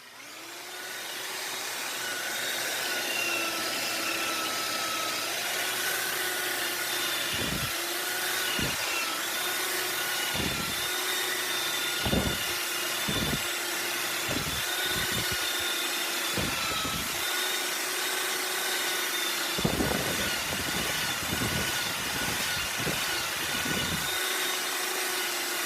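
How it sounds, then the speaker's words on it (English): A sander rounds off a wooden finial in a dusty workshop, giving a constant, close whirring drone for the whole stretch, broken by a series of brief, low thumps as the tool moves over the wood. "Trick is to keep the sander moving"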